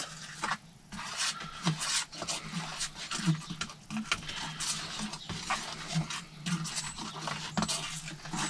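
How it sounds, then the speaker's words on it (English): Wet, stodgy groundbait mixed with powdered additives is stirred around a bowl for fishing bait, giving a continuous close-up scraping, squelching rasp with irregular rhythm and no voices. "Just stir it around in there with, I don't know, just anything."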